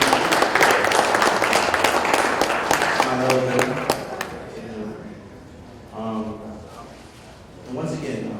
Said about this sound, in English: y'all give another round of applause